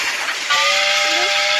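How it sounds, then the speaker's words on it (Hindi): A cartoon train whistle shrieks as the train arrives in a children's alphabet lesson, a loud sustained steamy blast with hiss that starts abruptly and holds to the end. "और रेलगाड़ी फिर से आ गई।"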